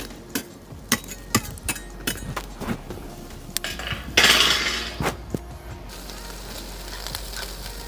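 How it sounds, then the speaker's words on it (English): A metal tray holding steaks is spun and rotated inside a pizza oven, giving sharp metallic clinks and taps at irregular intervals over a low background hum, with one louder scraping sizzle midway. "I'm just going to keep spinning and rotating this tray just to try and get a nice even cook on those steaks"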